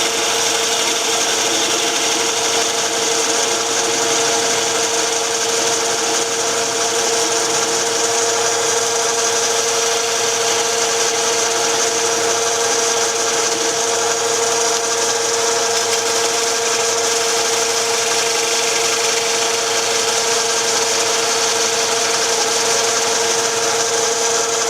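A 1/2-inch spindle gouge cuts wood on a lathe, giving a steady, even scraping hiss that runs unbroken for the whole stretch, loud and close, with no talk.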